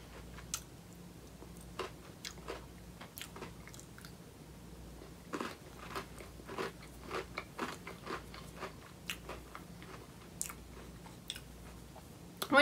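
Oreo birthday cake cookies being bitten and chewed up close, a run of small crisp crunches and clicks in an irregular rhythm over quiet room tone, with no talking.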